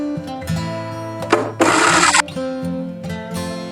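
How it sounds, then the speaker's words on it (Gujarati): A kitchen mixer grinder whirs in short bursts as it grinds green tamarind chutney in its jar, with one louder, harsher full-power burst in the middle, close and loud. "આ રીતે હવે તેને મિક્સરમાં પીસવાનો છે"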